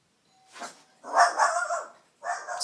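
A pet dog barks indoors, a soft yip followed by a louder run of sharp, agitated barks and another burst, close and without any talking.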